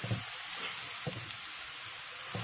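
Chopped raw papaya frying with popped mustard seeds in a pan for a Kerala thoran, giving a steady soft sizzle with a few stir scrapes at regular intervals, heard close and alone.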